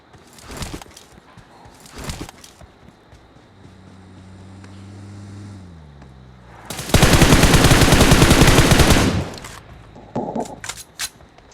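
Gunfire in a shooter video game: a few sharp single shots, then a long loud sustained burst of automatic fire, followed by more scattered cracks, with a vehicle-like drone in between.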